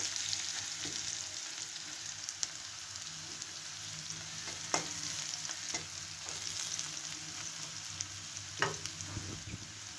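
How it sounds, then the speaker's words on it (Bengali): Chopped garlic fries in a pan for okra curry, a steady soft sizzle with occasional scrape and stir clicks from a spatula, close and fairly quiet, with no talking. "এবার রসুনটা লাল লাল হয়ে এসছে, রসুনের গন্ধ ছেড়ে দিয়েছে।"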